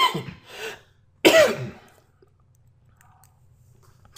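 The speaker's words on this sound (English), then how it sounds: "Let me mute out because I feel a cough." A man on a presentation call gives a few short, close coughs and throat clears in quick succession, followed by near silence with faint low hum and a small click.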